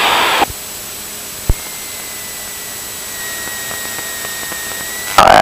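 Cessna 172 engine at idle power during landing, a loud steady droning hum with a faint whine, a brief thump partway through, and a surge of louder noise at the end.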